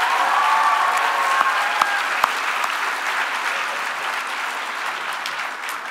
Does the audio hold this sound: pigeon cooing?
no